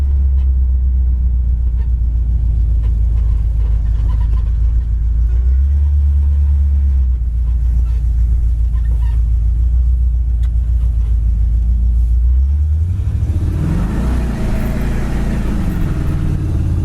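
A 1970 Ford Mustang Mach 1 with a 351 V8 drives down the road, with a deep steady engine rumble inside the car that swells into a loud acceleration near the end.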